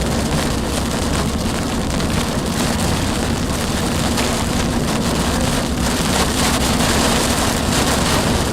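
Heavy rain pours on the backside of a storm during a tornado chase in Arkansas, a loud, dense, unbroken roar of drops close around the vehicle, with no talk.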